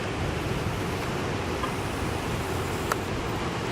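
Floodwater rushes steadily under a bridge, with ice in the current: a loud, constant broadband roar of fast-flowing river water with no pauses.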